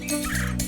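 A boy imitates bird chirping with his voice, producing a short, warbling, gobble-like burst of tones, close and fairly quiet, with no talking.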